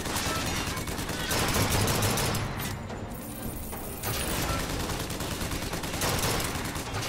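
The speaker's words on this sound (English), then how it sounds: "Did he just shoot his buddy with a rocket?" Sustained gunfire and rocket blasts from BioShock Infinite's Clash in the Clouds combat, a dense continuous barrage of shots and booms at steady loudness throughout.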